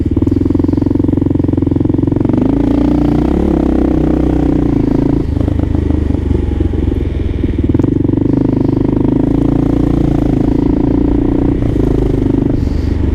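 A Kawasaki KLR 650 motorcycle engine with a choke eliminator on the carburetor idles loud and close, a steady throbbing rumble with some mechanical clatter throughout, no voices.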